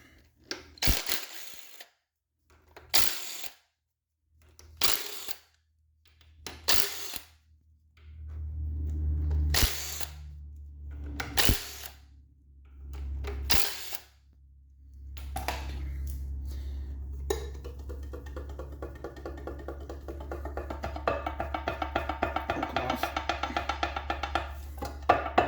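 Tools work on rear plate bolts of a Triumph TR6 engine, with a series of sharp ratcheting bursts, then a longer steady mechanical whirring, close and fairly loud.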